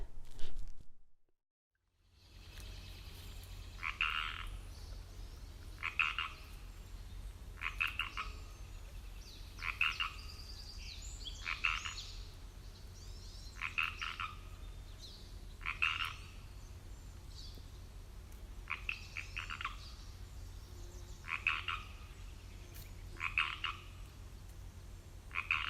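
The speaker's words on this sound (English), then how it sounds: "there's a decent chance that the frogs will start chirping and singing" Frogs call in short, evenly spaced bursts in a wetland, repeating roughly every couple of seconds over a quiet outdoor background, fairly close and clear.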